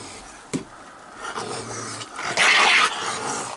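Dogs growl and snarl while scuffling over hot dogs outdoors, with a sharp yip, rough close snarling building to a louder burst, and no talk.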